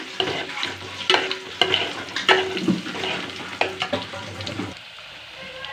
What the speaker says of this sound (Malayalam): അതിക്ക് ഉള്ളി തൂമ്പിച്ച് മുളക് ഇട്ടുക്കണം.